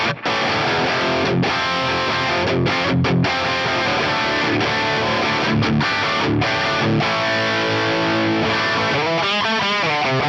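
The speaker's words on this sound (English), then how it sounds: "Sounds like a Plexi. It's got that kind of spitty upper mid-range high thing." An electric guitar, a PV Wolfgang Special, plays distorted chords and riffs through a Plexi amp model with plate reverb. The tone is loud and gritty with bright upper mids, short pauses between phrases and a wavering, vibrato-like passage near the end.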